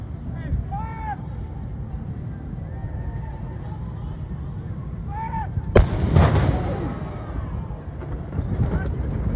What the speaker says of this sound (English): The North Fork cannon fired as we sailed away.